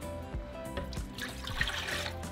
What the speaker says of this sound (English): And into my blender, I'm going to add about 2 cups of water.